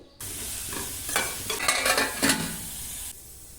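Onions, green chillies and tomatoes sizzle and fry in a pan with bursts of stirring scrapes, loud and close, with no one speaking.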